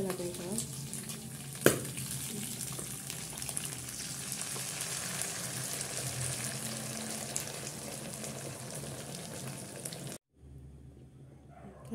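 Water boiling in a pot on a home stove while spaghetti is being cooked, a steady bubbling, hissing rumble close by that runs for about ten seconds with a sharp clink early on before cutting off.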